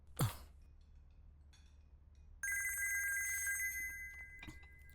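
A telephone rings again on a repeated call, its steady electronic trill starting midway and continuing loud and unbroken after an earlier brief whoosh and quiet room noise.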